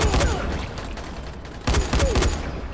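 Rapid gunfire in the zombie survival game Dying Light, during a museum fight: dense bursts of automatic shots, loud and close, in two clusters with a brief lull between them.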